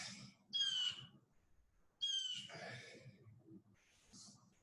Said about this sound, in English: Got a talkative bird outside.